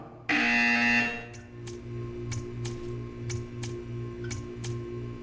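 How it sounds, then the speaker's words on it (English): A harsh electronic buzzer from the video game Portal 2 sounds once loudly, then a steady pulsing tone continues with regular sharp ticks repeating underneath. "You will hear a buzzer"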